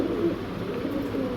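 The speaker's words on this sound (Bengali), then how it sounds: "একেবারে টপ কোয়ালিটির একজোড়া স্প্যানিশ পটার জেএনএস কবুতর" A pair of Spanish Pouter JNS pigeons coo in low, steady throaty murmurs, continuous and fairly close, with no other sounds over them.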